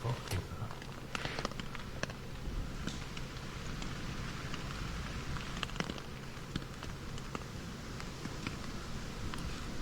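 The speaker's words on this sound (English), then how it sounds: "It's now rain, or what is dripping?" Rain and dripping water patter steadily across the ground in a spooky video game, a dense, even hiss with scattered small drops and faint crackles throughout.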